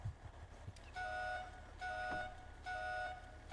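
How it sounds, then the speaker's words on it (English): A vehicle alarm system in a video game gives three evenly spaced electronic beeps, each lasting about half a second, fairly quiet and alone with no talking. "Can you hear the alarm system on this one?"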